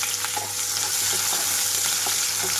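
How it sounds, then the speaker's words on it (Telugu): Chopped onions frying in hot oil with dried red chillies and spices for a spinach chana curry, a steady close sizzle with repeated stirring scrapes and no voices. "ఇవన్నీ వేగిన తర్వాత కట్ చేసి పెట్టుకున్న ఉల్లిపాయలు వేస్తున్నాను."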